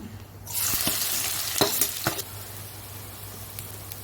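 Onions dropped into hot oil with cloves for a curry, a loud broadband sizzle bursting in after a quiet start and settling into a steady fry, with a few sharp clinks and stirs along the way.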